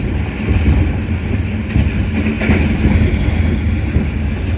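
Sukkur Express 145 Up passenger train passing, a loud, close, continuous rumble with rattling carriages and faint clickety-clack throughout.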